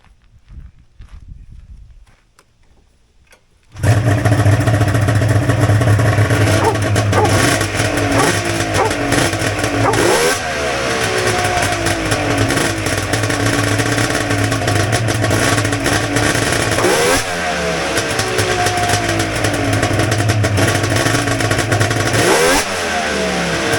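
A vintage Polaris three-cylinder snowmobile engine fires up after a few seconds of quiet, then runs loud and close, its idle swelling into several revving surges and settling back.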